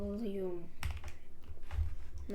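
A quick burst of computer keyboard keystrokes clatters up close during a Counter-Strike 2 gaming session, partly overlapping a person talking.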